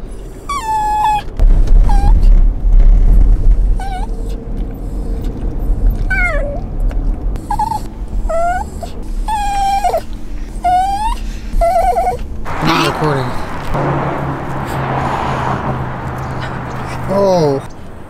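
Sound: dog whining and crying during a car ride

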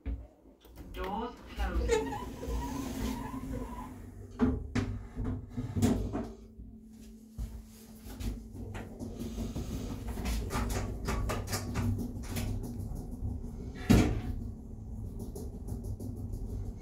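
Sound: Ascendant lift doors closing

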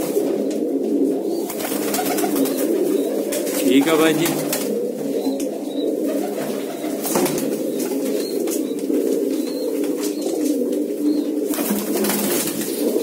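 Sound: pigeons cooing and flapping wings

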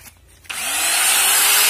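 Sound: electric sander sanding the sides of a refrigerator

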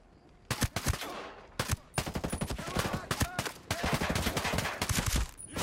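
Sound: gunfire in the video game Ghost Recon Breakpoint

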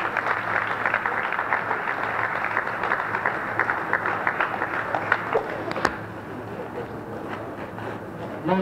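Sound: audience applause for award winners

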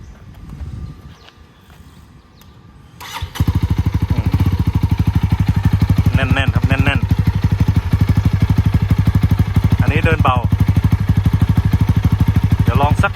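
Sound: motorcycle exhaust revving

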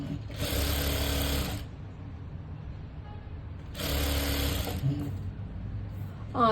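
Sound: sewing machine stitching a blouse boat neck

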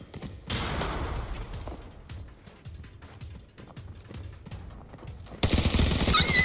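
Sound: gunfire in the video game Arena Breakout

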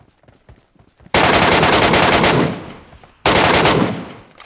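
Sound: gunfire from PUBG Mobile video game

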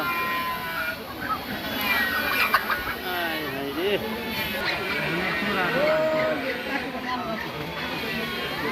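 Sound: roosters clucking at a poultry sale

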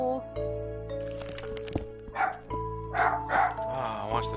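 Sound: dog barking

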